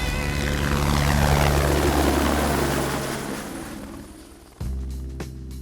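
Helicopter for a heli-skiing operation, a loud steady rotor and engine drone that fades slightly before an abrupt cut and a sharper close thump of rotor noise near the end.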